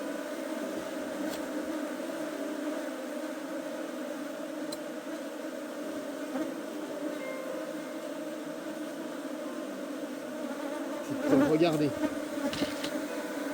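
Aggressive wild Mayotte honeybees at the Fonté Dzoudzou apiary hive drone in a continuous close buzz, with a louder swell near the end and a brief spoken word.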